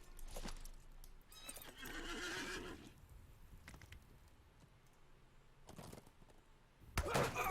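In the Lord of the Rings Online game, a horse whinnies and its hooves clop, the neigh rising mid-clip, with sharp thumps and hoof clatter at the end, fairly faint overall.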